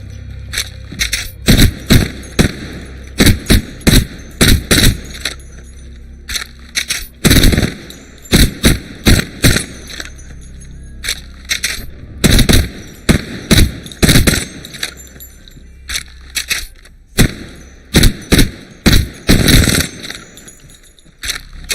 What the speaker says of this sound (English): I'll mix it up with the R99 against the Bloodhound